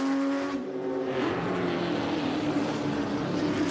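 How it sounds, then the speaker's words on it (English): A 1963 Mustang race car at the Circuit of the Americas during an SVRA race, engine droning loud as it comes past, pitch sliding and blending into wide rushing noise, no talk. "in comes the Mustang then, the 63."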